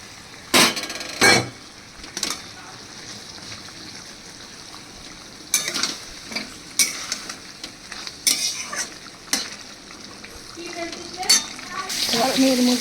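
Fried pointed gourd pieces stirred into a pan of sizzling, frying spiced masala, with scraping spoon clatters and bursts of sizzle over a steady frying hiss, close and moderately loud.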